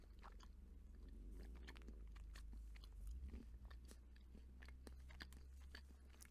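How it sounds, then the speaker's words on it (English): Repeated crisp bites and chewing of a chocolate fudge stripe shortbread cookie, close and clear, with sharp crunchy snaps scattered over several seconds and no talking. "Chocolate has a good snap to it."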